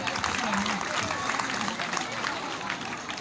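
Audience at a Gagnoa awards ceremony breaking into applause, a dense, moderately distant wash of clapping that carries on steadily throughout.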